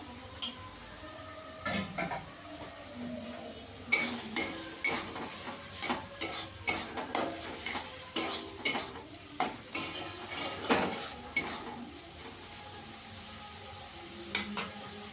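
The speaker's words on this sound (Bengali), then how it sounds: "ভালো করে মশলাটাকে কষিয়ে নেব" Spice paste with Kashmiri chilli powder being sautéed and stirred in a pan for a prawn and vegetable curry, a steady low sizzle under repeated scraping and clinking strokes of a spatula, busiest in the middle.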